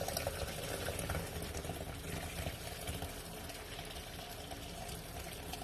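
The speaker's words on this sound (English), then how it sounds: "So we're going to pour it slowly." Homemade vegetable broth made from kitchen scraps is poured slowly from a pot into a container, a steady, moderately loud liquid rush and splash that continues without a break.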